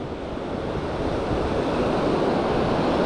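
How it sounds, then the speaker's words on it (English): Strong wind roars across the microphone alongside the steady rush of surf at Seaside, Oregon, a continuous loud outdoor wash with no voices. "really windy today"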